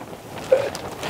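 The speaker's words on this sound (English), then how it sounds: "It wasn't supposed to be windy today." Wind gusts across a microphone outdoors while clear vinyl is taped onto a car hood, a steady low rumble with a brief louder buffet midway.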